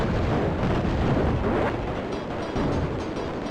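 Missiles explode continuously in Raptor: Call of the Shadows, a steady roaring wash of overlapping booms and crackling blasts with no pauses.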